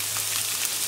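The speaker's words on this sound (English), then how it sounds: "you just cook off the curry paste while your onions are cooking" Curry paste cooking with onions in a pan for a fish curry, a brief, soft, even sizzle with no talk.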